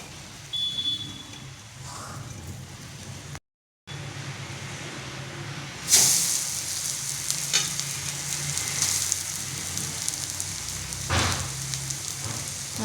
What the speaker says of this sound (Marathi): तूप तापल्यानंतर त्याच्यामध्ये खोबऱ्याचा खीस टाकूया.